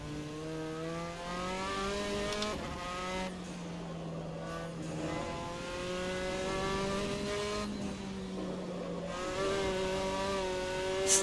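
A Formula 4 race car in Assetto Corsa at Okayama, its engine droning high and steady with gear changes and a brief tire squeal as the rear snaps into oversteer, continuous and fairly quiet with no talking.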